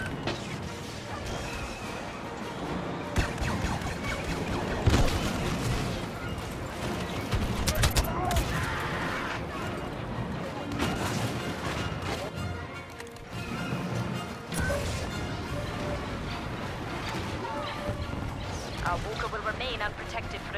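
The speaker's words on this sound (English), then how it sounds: "Our walker has the GR-75 transport in range, firing at will." Star Wars Battlefront game battle with a walker firing blasters at a GR-75 transport: dense bursts of blaster shots, crashes and explosions over continuous rumbling chaos, with voices talking through the fighting.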